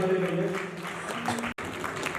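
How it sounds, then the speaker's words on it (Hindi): Applause from an audience at a school team competition, a sustained patter of clapping mixed with background voices and tones. "बजा दीजिए तालियां जोरदार"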